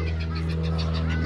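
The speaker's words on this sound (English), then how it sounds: "Lots of Egyptian geese around here." Egyptian geese at an estuary honk in a steady series of calls over a constant low hum.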